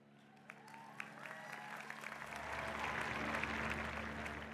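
Audience applause at a university commencement ceremony, a broad wash of clapping that swells and grows denser after the first couple of seconds, with a low hum underneath.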